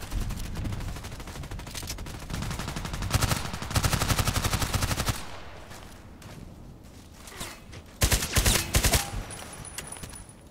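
Rapid bursts of FN SCAR-H rifle fire in the Contract Wars shooter game, loud and close, with long automatic strings early and then shorter groups of shots near the end.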